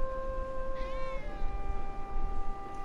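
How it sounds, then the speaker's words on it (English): A pet cat named Winter meows, a long drawn-out tonal call that rises and wavers, close and clear over a low steady background hum. "Oh, is that my little kitty?"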